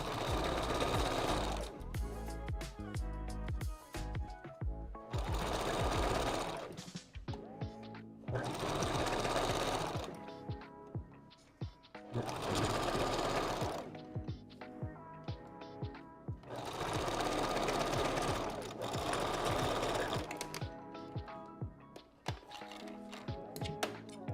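A sewing machine stitches a 5x5 wig closure in repeated loud bursts of rapid whirring stitching, each lasting a few seconds and separated by short quieter pauses.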